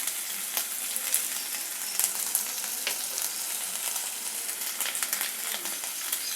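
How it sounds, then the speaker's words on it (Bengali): Spices stirred through hot oil in a frying pan for Bengali paneer pasanda: a steady, close sizzle with faint scraping and stirring clicks throughout, no voices. "অল্প একটু হলুদ গুঁড়ো দিয়ে একটু নাড়াচাড়া করে নিলাম।"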